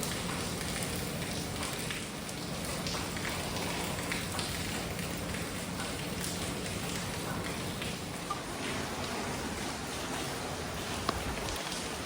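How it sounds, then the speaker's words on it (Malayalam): Heavy rain pouring steadily at night, a dense continuous hiss of drops hitting surfaces close by, unbroken for the whole stretch with no voices. "എന്തായാലും നല്ല മഴയാണ് ഗൈസ്."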